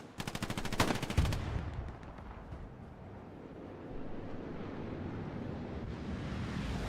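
A machine gun rips off a rapid, loud burst of fire in the Hell Let Loose World War II game at Omaha Beach, then cuts out, leaving a steady rumble of distant battle ambience and wind.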